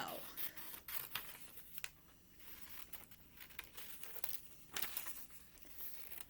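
Scissors snip out paper pictures for a classroom worksheet, with quiet, irregular cuts mixed with paper crinkling and rustling at close range.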